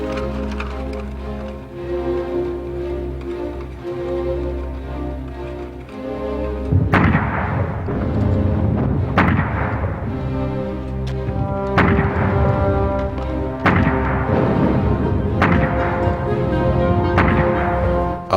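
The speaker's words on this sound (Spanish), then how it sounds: "Empezó a desplegar más cañones." Artillery cannons fire at the Battle of Verdun. A low, steady rumble runs first, then loud, heavy booms crack out every two to three seconds, each one echoing and rolling away.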